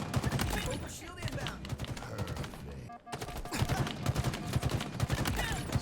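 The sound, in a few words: battle rifle shots in video game Halo Infinite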